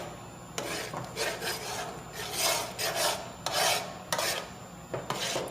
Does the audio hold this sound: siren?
no